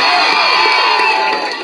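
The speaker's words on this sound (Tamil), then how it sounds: "சும்மா பாம்புக்கு கைத்தட்டல தெரிக்க விடலாமா?" A crowd at a film first-look launch cheers and whoops loudly in one short, dense burst that tapers slightly at the end.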